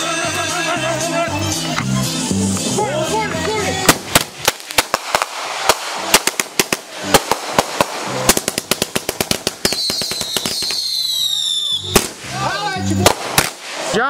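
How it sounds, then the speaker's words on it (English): A rapid string of sharp firecracker bangs crackles nearby, loud and irregular, over music and voices, with a high whistling squeal near the end. "Deuce is gonna throw a firecracker at your back"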